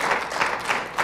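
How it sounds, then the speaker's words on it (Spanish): A church congregation claps together in praise, a steady wash of many hands with small surges in intensity, moderately loud and filling the room with no voices on top. "Démosle un aplauso al Señor ahí para entrar un poquito en calor"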